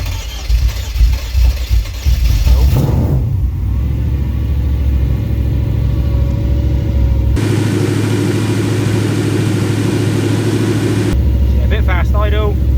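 A Mercedes M113 5-litre V8 swapped into a Ford Capri cranks in short bursts, catches, then settles into a steady, slightly fast idle on its first start, with voices underneath.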